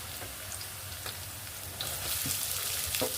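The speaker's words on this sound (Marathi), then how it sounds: "कांदा पण चांगला मऊसर होईपर्यंत तळून घ्यायचा" Chopped onion frying in hot oil for pav bhaji after capsicum, giving a steady close sizzle and crackle throughout with faint stirring taps, no voices.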